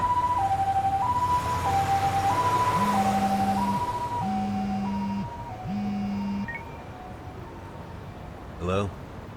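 An ambulance siren in the video game Lost Judgment, a loud two-tone wail cycling steadily while a lower horn blasts three times and then fades out, ending with a short burst of other noise.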